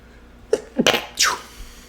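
A sudden sneeze bursts out at close range on a quiet indoor podcast, a sharp breathy onset followed by a brief second burst, standing alone without talk.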